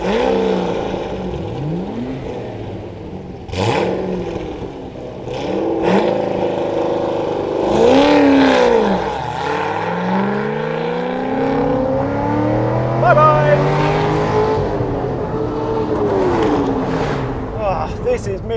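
A V8 with an LS7 engine cranks on the starter and fires, then revs hard and accelerates through rising and falling gear sweeps, loud and close, with a voice talking over it.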